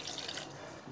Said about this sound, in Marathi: पाणी टाकू